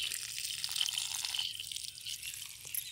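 Water flowing from a pipe line onto coconut plants makes a continuous bright hissing splash at moderate volume, steady throughout with slight fluctuations and no talking.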